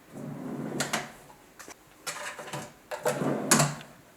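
A makeup vanity drawer slides open and shut several times in a row, each pass giving a short wooden scrape and a soft thump, close by in a quiet room.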